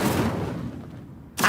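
Whooshing burst of the Incendio fire spell in Hogwarts Legacy, a loud fiery rush that fades over a second, then a sharp new hit at the end.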